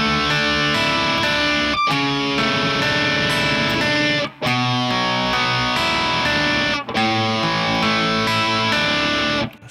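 Heavily distorted electric rhythm guitar playing a song, dense sustained chords strummed in three long phrases separated by brief gaps, loud and close with no talking.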